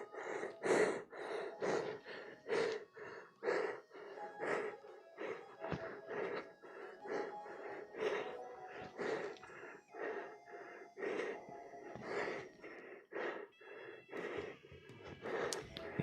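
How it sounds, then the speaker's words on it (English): A person breathes heavily after a strength and conditioning workout, with rapid repeated gasping breaths and wheezy exhales in a steady, labored rhythm, close and fairly loud for the whole stretch, with no speech. "some heavy breathing is required"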